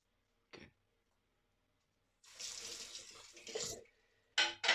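Tap water is scooped and splashed onto a face with three days of stubble before an open-comb safety razor shave, done quietly at night: a faint, brief sound, then a few seconds of close running and splashing water, then two short, louder splashes.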